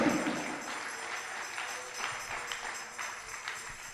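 A church congregation claps together in a steady, continuous round of applause, moderately loud and diffuse, holding for several seconds with a slight swell at the start.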